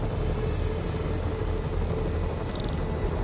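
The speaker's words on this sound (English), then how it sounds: "Bet I can use those helicopters to swing." Helicopters in a video game give a steady, loud rotor and engine drone that holds without break from start to finish, with no talking.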